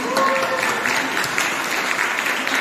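A church congregation applauding steadily, dense clapping filling the space for a few seconds at fairly loud volume.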